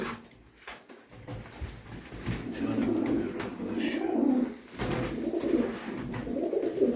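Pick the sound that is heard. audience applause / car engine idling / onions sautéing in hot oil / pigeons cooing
pigeons cooing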